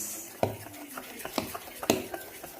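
Dosa batter mixed with mucumucu spinach is stirred in a vessel, giving a few sharp scraping clinks and wet stirring sounds spread over a couple of seconds, close and moderately loud.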